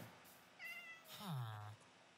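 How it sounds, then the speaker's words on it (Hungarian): Two cats meowing in the video game Minecraft, two clear, close meows in quick succession, the second longer and louder. "Na, hát két cica is van itt."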